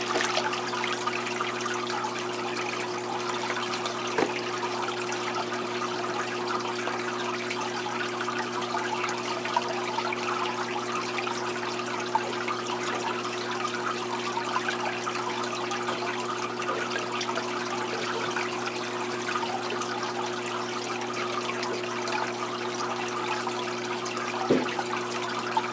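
Five gallons of brackish water pour steadily back into an aquarium tank, a continuous trickling rush that holds at an even level throughout with a couple of faint knocks.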